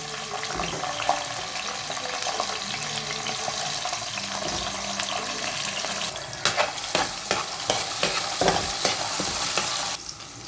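Potato pieces fry in oil in a pan with spices for semiya upma, giving a steady, close sizzle with stirring and scraping clatters that grow more frequent toward the end.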